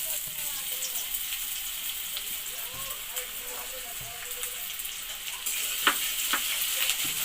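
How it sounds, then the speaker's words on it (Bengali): Chopped ginger and garlic fry in hot chicken oil in a wok, giving a steady close sizzle and crackle that runs without a break, with a few louder pops and spits near the end. "প্রথমে আমরা এই আদা রসুন যে কুচনো রয়েছে ওটা আমরা তেলের মধ্যে দিয়ে দিলাম।"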